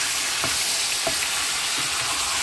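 Chicken frying in oil in a pan with turmeric and salt, a steady close sizzle broken by a few soft stirring scrapes.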